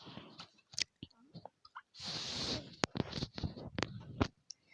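Cartoon chewing and crunching effects from a cat video game play in short bursts, with a longer noisy burst in the middle, fairly quiet, and no talking.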